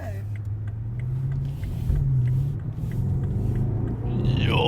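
A car pulls away from a stop street, its low engine rumble building under the cabin as it accelerates, with people talking inside.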